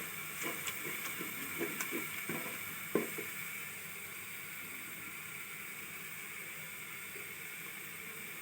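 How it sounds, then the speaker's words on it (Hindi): Green onions fry quietly in a pan for sarson ka saag, giving a steady soft hiss with a few light ticks and pops early on, then an even sizzle that continues to the end, with no voices. "हरी प्याज आप देख रहे हैं कि फ्राई हो रही है"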